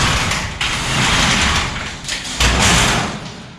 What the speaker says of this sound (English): I gotta open the garage